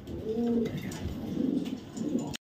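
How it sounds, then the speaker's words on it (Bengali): A pair of Pakistani Kaldum pigeons coo close by, soft low throaty calls repeating in short rolling bursts before cutting off abruptly. "মাশাআল্লাহ টপ কোয়ালিটির একজোড়া পাকিস্তানি কালদম কবুতর।"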